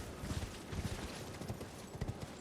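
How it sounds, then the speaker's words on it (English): Rhythmic clip-clop of horse hooves from the horseback mount in the Elden Ring video game, a steady trotting beat of soft thuds heard over a dense, noisy background mix. "let me get on my horse back a second"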